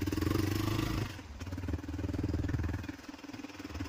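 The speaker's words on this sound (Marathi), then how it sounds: "काय सायलेन्सर डॅमेज. काय बोलतो, आवाज येतो." A Bajaj motorcycle with a damaged silencer runs with a loud, rough, rattling exhaust that drops after the first second into a steady, throbbing idle.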